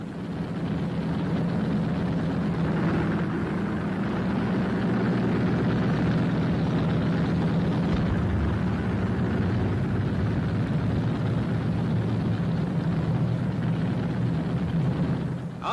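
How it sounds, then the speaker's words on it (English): Beverley transport aircraft, a 36-ton giant, taking off on a demonstration flight, its engines giving a loud, steady drone that holds without pause throughout. "A Beverley, which is on order for the RAF and also has great commercial prospects, takes off on a demonstration flight"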